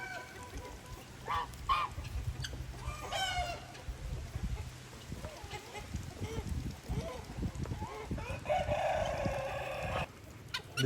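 A broody goose on a farm animal sanctuary gives honking calls amid clucking and crowing fowl, fairly faint and intermittent, with some quiet talk nearby.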